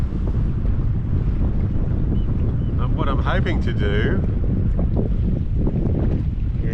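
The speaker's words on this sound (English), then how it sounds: "As you can see, there's quite a fresh breeze." A fresh breeze buffets a boat anchored on its chain in one metre of water in Turnbull Bay, Bynoe Harbour, a loud steady roar of wind noise against the microphone, with someone talking over it partway through.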